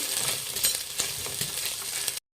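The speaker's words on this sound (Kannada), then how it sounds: "ಒಂದು ಅರ್ಧ ಟೇಬಲ್ ಸ್ಪೂನ್ ಅಷ್ಟು ಶುಂಠಿ ಬೆಳ್ಳುಳ್ಳಿ ಪೇಸ್ಟ್ ಹಾಕ್ಕೊತಾ ಇದ್ದೀನಿ. ಸ್ವಲ್ಪ ಹಾಕ್ಕೊಳ್ಳಿ, ಫ್ರೈ ಮಾಡಿ" Ginger garlic paste, about half a tablespoon, sizzles steadily in a hot pan with brief scraping stirs, close and fairly loud, alone with no voices.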